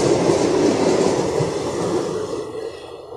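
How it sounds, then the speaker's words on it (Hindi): A train rolls past a railway level crossing with electric button-operated gates, its rumble and wheel clatter loud and close, steady throughout and easing slightly near the end. "देखिए, अभी ट्रेन पास हो रहा है।"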